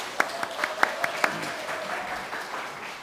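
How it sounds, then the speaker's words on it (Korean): A church congregation claps in encouragement during a worship service, a few sharp individual claps at first swelling into soft, steady applause at a moderate distance. "우리 예배 중간이지만 격려의 박수 부탁드립니다."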